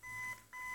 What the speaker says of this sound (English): An alarm clock.